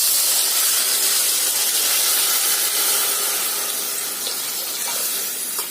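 Pressure cooker steaming on the stove while cooking rice and lentils for a Tamil village dish, a loud continuous hiss of escaping steam that fades slightly toward the end.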